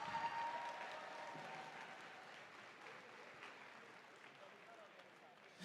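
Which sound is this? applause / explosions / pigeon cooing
applause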